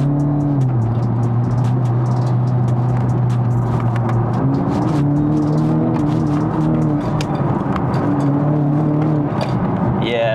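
A tuned Stage 2 BMW F30 330e plug-in hybrid, about 400 bhp, accelerates hard in sport mode. Its steady engine drone rises, then drops and climbs again at each gear change, loud and close throughout.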